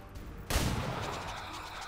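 A single sharp sniper rifle shot from the video game XCOM 2 cracks out, followed by a sustained rumbling roar and echoing tail that slowly fades.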